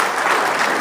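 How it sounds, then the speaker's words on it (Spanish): A church congregation claps together in steady, dense applause, close and fairly loud, with no voices over it. "aplaudamos, hermanos"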